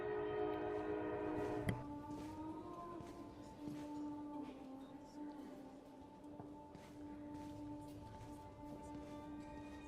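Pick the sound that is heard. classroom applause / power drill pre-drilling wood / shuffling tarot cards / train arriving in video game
train arriving in video game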